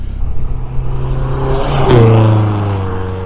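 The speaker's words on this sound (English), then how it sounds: "that was literally just a very quick run up and down the road, see how it sounds" Toyota MR2 fitted with a Funk Motorsport induction cone kit on a quick road test drive, engine droning close and loud, then building into a strong rev with a rising intake note.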